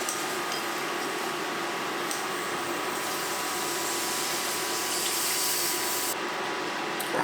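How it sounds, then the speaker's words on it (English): Milk pours into a white sauce roux in a pan, a steady, close liquid rush that stays even throughout, with no talking. "So now we can add the milk."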